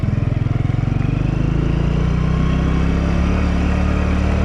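A small Honda Super Cub motorcycle engine putters steadily and close on an off-road track, a continuous low buzzing drone with a slight rise in pitch.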